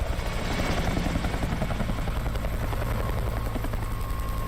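Helicopter in a video game flying steadily and close, its rotor thump continuous and loud throughout with no talk.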